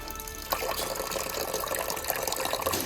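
Water flushes through the nipple drinker pipe of a rabbit hutch during cleaning and disinfection. It makes a steady, fairly faint hiss that thickens after a brief start, with no voices over it.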